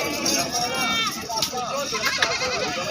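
Goats bleating at a livestock market, several wavering cries rising over a busy background as someone talks nearby throughout.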